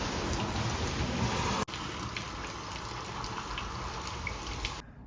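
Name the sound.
rain falling outside in Seattle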